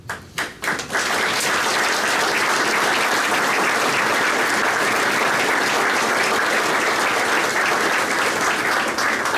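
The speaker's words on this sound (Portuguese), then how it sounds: "gostava, de facto, de deixar aqui o meu aplauso para estes amadores" Audience applause at a book launch about bullfighting with a rope, for the bullfight amateurs; a few scattered claps quickly swell into loud, sustained, dense clapping from a large crowd lasting several seconds.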